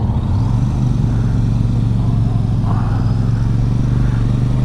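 A Royal Enfield Super Meteor 650 cruiser on the open road, with a loud, steady engine drone and wind rumble at a constant pace and no talk.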